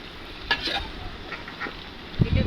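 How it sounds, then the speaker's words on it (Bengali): Pointed gourd and potatoes cooking in a pan on a wood-fired clay stove, with a low crackle and hiss, a few stirring scrapes and a rumbling burst of flame noise at the end. "চুলায় রান্না করতেছে তো, খড়ি দিয়ে জাল দিচ্ছে, এর জন্য এমন"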